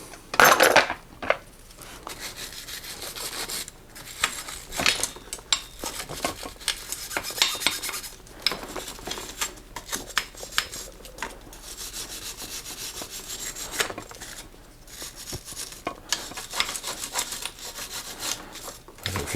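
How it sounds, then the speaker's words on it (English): Steel wool rubs lightly over a sticker on a 1987 Mongoose mountain bike, a close, uneven scratchy scrubbing in quick bursts and strokes that runs throughout with brief pauses. "steel wooling that sticker very lightly"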